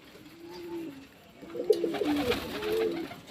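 A flock of pigeons feeding in a tight circle, soft low cooing calls repeating close by, growing busier partway through with faint rustling, no voices.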